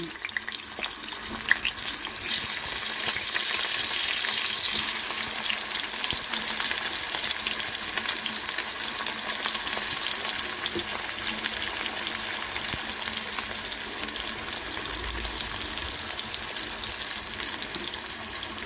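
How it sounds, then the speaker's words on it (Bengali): Potatoes frying in hot oil with salt and turmeric, reused oil from frying kofta, giving a dense, continuous loud sizzle that holds steady throughout with no talking. "নুন হলুদ দিয়ে আলু ভেজে নেব"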